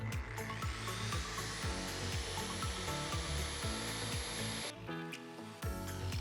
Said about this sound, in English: cut in from the back of the tile to finish off this cut